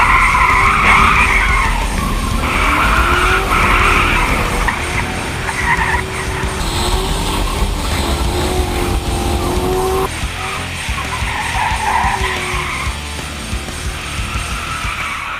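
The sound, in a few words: Chevy Caprice skidding and spinning out on wet autocross course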